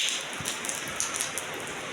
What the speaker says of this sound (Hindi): ये देखिए, खूब तेज हो रही है बारिश।